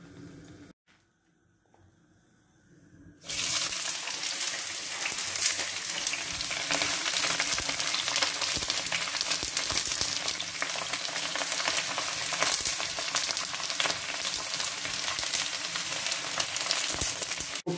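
Radicchio and garlic hit hot olive oil in a pan after a quiet moment, bursting into a loud, steady close-up sizzle and crackle that keeps going.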